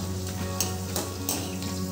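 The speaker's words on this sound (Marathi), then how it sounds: "त्यात आता आपण वाळलेल्या छान गवारीच्या शेंगा तळून घेऊ।" Dried guar bean pods fry in hot oil in a kadhai, giving a steady close sizzle with a few brief bursts of crackling, and no voices are heard.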